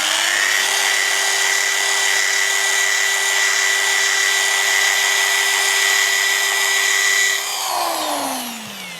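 Machine polisher working fresh car lacquer, a loud steady whine with a constant hum running unbroken for about seven seconds, then the tone drops as the motor winds down.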